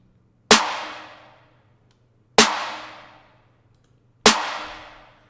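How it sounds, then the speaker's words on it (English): Three layered 808 snare hits land about two seconds apart, each a sharp, loud crack with a long, bright noisy tail that fades out before the next, over a faint low hum. "I got this 808 snare from Splice today"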